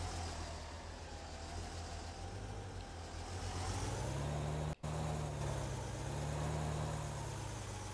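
Tractor engine in Farming Simulator 15 droning steadily close by, its low hum rising in pitch partway through, cut by one very brief dropout, with no talk.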